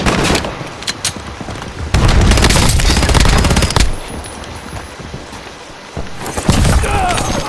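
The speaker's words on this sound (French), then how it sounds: "Grenade, grenade!" Warzone firefight with bursts of rapid automatic gunfire and a heavy explosive blast from a grenade, loud and dense, dropping briefly between volleys before firing resumes.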